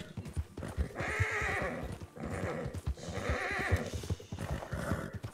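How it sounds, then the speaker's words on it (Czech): A horse in the video game Red Dead Online neighs and whinnies loudly, with repeated shrill calls over several seconds and thudding hoof clip-clops throughout, close up and with no speech. "proč tak rve ten kůň"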